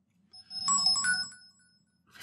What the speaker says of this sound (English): Phone's still beeping madly.